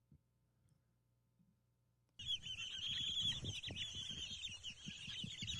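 Backyard chickens cluck and chatter close by in a busy flock. The sound starts abruptly after a near-silent opening and carries on with steady bird calls and no talking.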